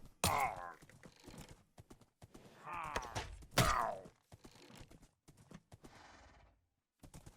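A horse in Minecraft clip-clops along in a series of sharp, uneven hoof strikes, several louder clacks standing out among quieter taps against a near-silent background.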